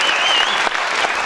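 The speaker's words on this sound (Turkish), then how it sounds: "Ben alkışlarınızla Murat Aydemir'i buraya almak istiyorum." Spring concert audience applauding as a performer is called to the stage, a loud, dense burst of clapping from a large crowd, continuous through the short clip.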